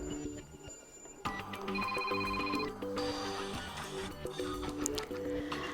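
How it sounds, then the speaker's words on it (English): A bright electronic ringtone melody plays from a Kyocera Torque G03 phone's default ringtone list, a chiming synthesized tune repeating its phrase steadily at moderate volume. "here we've got the list of defaultly installed ringtones"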